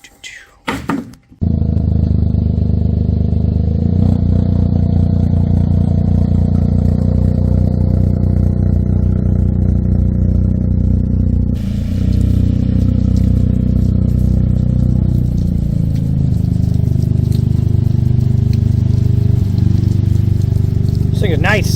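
Toyota GR Corolla (2023) with an MBRP catback exhaust idling after a short warm-up drive, a steady loud low engine drone that holds throughout, with a brief clatter near the start.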